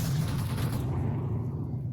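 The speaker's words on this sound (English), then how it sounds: "Once again, there's an explosion there." An explosion goes off in the VR shooter Onward, a low rumbling boom that fills the moment and slowly fades over about two seconds, with no talking.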